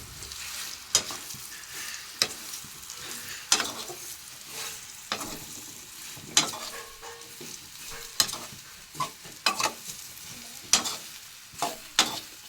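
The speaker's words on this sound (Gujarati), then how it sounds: "હવે એને થોડુંક હલાવશું" Leftover rotli frying in a pan is stirred with a utensil, giving sharp scraping knocks every second or so over a steady low sizzle, close and fairly quiet, with no voices.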